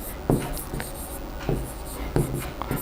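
Chalk or marker strokes on a board during a reflection-of-light physics problem, a few distinct scratchy taps and scrawls in an irregular rhythm, close and fairly quiet.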